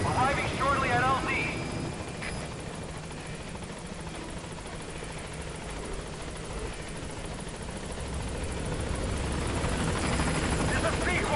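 A helicopter arrives at a landing zone in Metal Gear Solid 5, its rotor a continuous heavy thrum and whine that stays loud throughout, with a voice heard over it.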